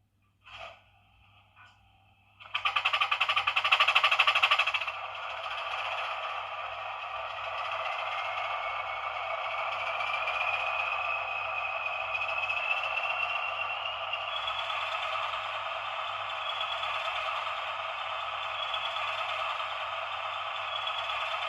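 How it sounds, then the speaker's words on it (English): Bachmann Class 20 model diesel locomotive with DCC sound cold starting: a brief sputter, then a loud, steady engine idle that settles into a continuous drone with a slowly rising whine, alone. "So that is now the loco cold started and up and running."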